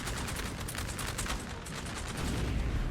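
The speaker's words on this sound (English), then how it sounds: "It's still a rifle fire" Massed musket and rifle volleys roar in a Napoleon Total War battle, a dense, continuous crackle of overlapping shots that stays loud and unbroken, with no talk over it.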